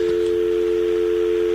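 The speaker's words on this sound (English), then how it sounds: "And we got a dial tone." A steady, unbroken telephone dial tone hums on the line after the caller hangs up, even and continuous throughout with faint background noise.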